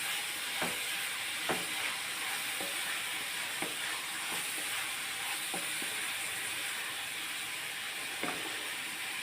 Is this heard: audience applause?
no